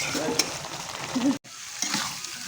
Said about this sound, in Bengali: এই যে কষানো হচ্ছে এটা অনেক ভালো করে কষাবো